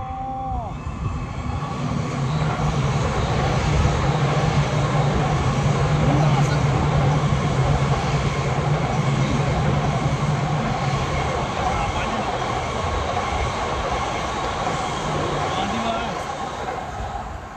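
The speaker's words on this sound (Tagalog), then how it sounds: "Napakaganda ng bullet train na yan o, mga idol o." A Japanese Shinkansen bullet train passes at full speed, a loud, steady broadband roar and rushing whoosh sustained for the whole stretch with no let-up.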